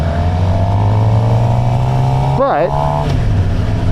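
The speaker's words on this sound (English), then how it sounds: "The GSXR 750 is a great bike" A Suzuki GSX-R 750 motorcycle engine runs at a steady idle throughout, with a brief rev blip near the end, while a person talks close by.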